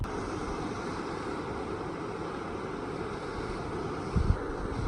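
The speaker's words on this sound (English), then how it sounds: "That's super windy." Strong wind roars steadily across the microphone on a Pacific Crest Trail mountain path, a dense continuous rumble with a brief gust near the end.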